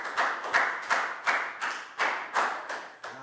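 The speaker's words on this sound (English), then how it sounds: "Big round of applause." A small group in a primary school class claps in unison, about ten sharp, rhythmic rounds of hand claps at a steady beat, close and moderately loud.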